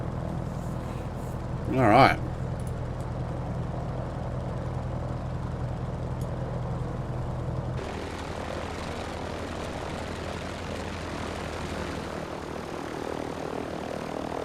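An F4F-4 Wildcat engine in a flight sim idles in a steady, loud drone after start. The tone shifts abruptly partway through, and someone speaks briefly near the beginning.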